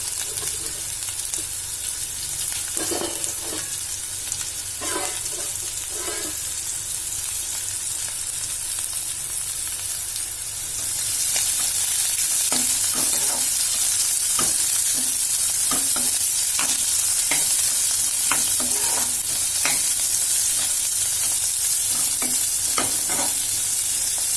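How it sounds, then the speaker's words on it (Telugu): Bitter gourd pieces fry in two tablespoons of oil, with a continuous loud sizzle and repeated scraping strokes from stirring. The frying grows louder and brighter about halfway through. "ఇది ఒక 2 టేబుల్ స్పూన్స్ ఆయిల్ వేసాం కదండి, దాంట్లో ఇవి వేసుకొని ఫ్రై చేసుకోవాలి"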